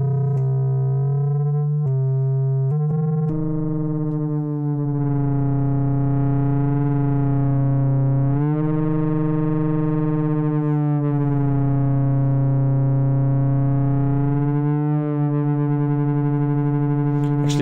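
A Vermona Perfourmer Mk2 analog synth holds a sustained buzzy tone whose pitch is modulated by an oscillator, with the octave jumping and sliding several times; loud and steady, alone without talk.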